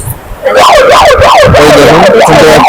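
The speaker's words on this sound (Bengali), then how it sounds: "একটু সমুদ্র বেশি দূরে গেলেই ওরা হর্ন বাজাচ্ছে আর সাইরেন দিয়ে সাবধান করছে" A lifeguard siren at Puri beach sounds loudly and up close, warning swimmers with a steady rising-and-falling wail that repeats several times after a brief quieter start.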